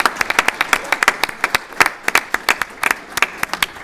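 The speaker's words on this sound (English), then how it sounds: "and a round of applause." A conference audience gives a round of applause, with dense, evenly spread claps of strong, steady volume, fairly close.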